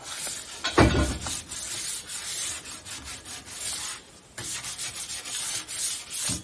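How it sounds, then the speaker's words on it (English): Steady back-and-forth rubbing of abrasive paper sands the coating on the exhaust headers of a 1971 Chevrolet C10 truck, a close, continuous scratchy rasp with a brief pause near the middle. "obviously you have to sand the coating on it"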